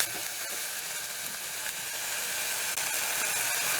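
Onions sauté in a pan, giving a loud, even, continuous sizzle and hiss up close with no talking.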